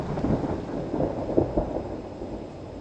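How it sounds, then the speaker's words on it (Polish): Deep rolling thunder rumbles over rain during a thunderstorm above Starachowice, a continuous low roar with a slightly louder swell midway and no talk. "a taka burza już jest"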